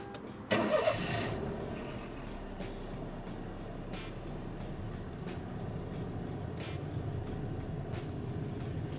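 A car engine cranks and catches with a loud burst, then settles into a steady idle that runs on alone, after LED reflectors and a switch were fitted.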